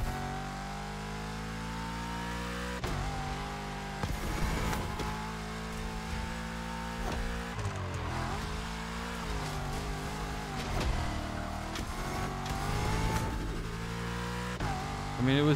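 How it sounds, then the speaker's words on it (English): A racing car engine in the video game The Crew Motorfest revs and drones continuously, loud and steady, its pitch rising and falling through gear changes with no pauses. "The car game's too loud."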